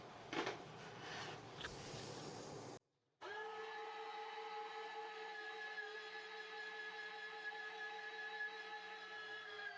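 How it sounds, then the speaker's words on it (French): An electric meat grinder fitted with a number 6 plate minces meat for Toulouse sausage, running with a steady, even motor whine that stops for a moment and then restarts, close by and alone. "Donc on va commencer à hacher la viande. Donc grille numéro 6, hachoir,"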